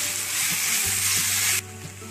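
Papaya halwa with sugar frying in a pan on a high flame, giving a loud, steady hissing sizzle that abruptly drops in intensity toward the end.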